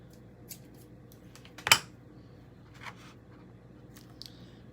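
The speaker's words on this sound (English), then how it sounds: "I'm gonna cut me a piece of twine" Scissors snip once through a piece of twine, giving a single sharp, close cut amid a quiet room with a few faint small clicks and rustles around it.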